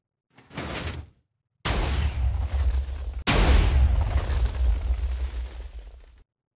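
Minecraft ender pearl cannon firing in a mesa biome: a short burst, a pause, then a heavy explosive blast that rolls straight into a second sharp boom and a long, loud rumble that fades out.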